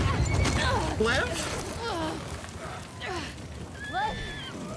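Horse in The Last of Us Part II neighing and whinnying in several rising and falling calls amid loud, frantic voices and commotion.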